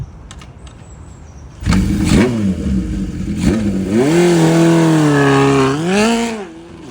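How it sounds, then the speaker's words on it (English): Motorcycle fitted with a very loud Moto GP Works exhaust pipe, starting up and revving hard up and down in a workshop, close and dominant, the engine note climbing and falling several times before settling. "It's got this Moto GP Works pipe on it, which again is ridiculously loud."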